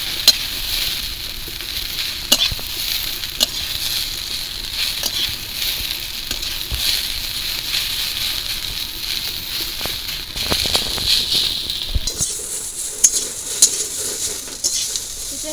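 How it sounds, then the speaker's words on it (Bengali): Snake gourd and lightly fried onions sizzle and crackle steadily in a pan while being stirred, with occasional scrapes and knocks of a utensil against the pan. "হালকা করে পেঁয়াজ ভেজে নিয়েছি, এবার চিচিঙ্গার সঙ্গে একদম ভালো করে মিশিয়ে নিচ্ছি।"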